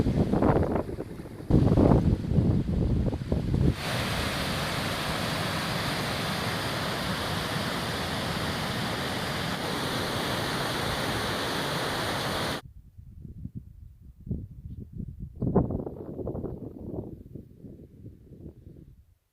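A mountain stream, milky with sediment from Mount Adams, rushes in a steady, broad roar for several seconds. Gusty wind buffets the microphone before it, and a quieter scene with scattered sounds follows after it cuts off.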